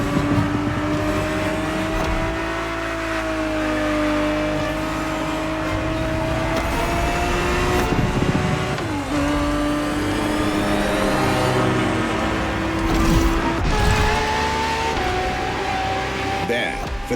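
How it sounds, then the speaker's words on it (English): A Ferrari 365 GTB4 from the 1970s races in The Crew Motorfest, its engine note rising and falling steadily as it revs through gears, loud and close, with game sounds layered underneath. "365 GTB4 is the perfect vehicle for you to experience Ferrari racing as it felt back in the 70s"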